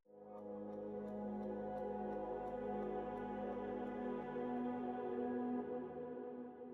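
Reversed opening of an electronic track, a sustained tonal swell soaked in reverb that fades in and holds steady, dense layered pads with a strong low-mid tone, alone with no talking.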